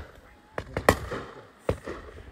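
Shotgun fired at a pheasant during a field shoot, with a few sharp, loud bangs in quick succession, the strongest near the middle, each trailing off into outdoor ambience.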